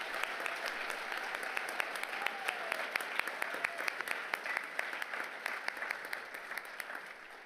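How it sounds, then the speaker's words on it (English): Steady applause from an audience at a leadership awards ceremony, heard somewhat distant and moderately quiet, with distinct individual claps sounding throughout. "if you could just give them one more round of applause,"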